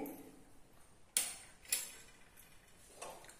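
Prawn masala stirred with kokum juice in a pan, giving a few soft, sharp clinks and scrapes of a spoon against the cookware, spaced apart over a quiet background.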